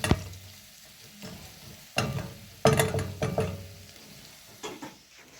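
Garlic and onions fry in a pan for wet fry liver, a steady sizzle punctuated by several close, scraping stirs of a spoon against the pan, with no talking.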